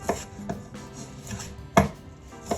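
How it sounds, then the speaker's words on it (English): A Santoku knife chops BBQ pork on a board, with about five irregular, close knocks, one noticeably harder than the rest, and no talking. "I'll cut this piece up."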